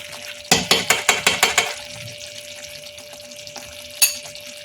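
Spoon tapping and scraping a pan as ghee and garam masala are added to a paneer masala, a quick run of several close metallic clinks, then a quiet simmer and one final clink.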